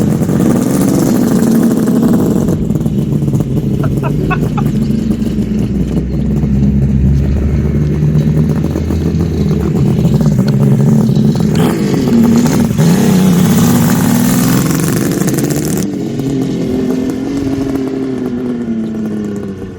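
Kawasaki H2 750 two-stroke motorcycle engine running loud and close, a steady rough drone with throttle blips and revs rising and falling, some clatter, continuous throughout.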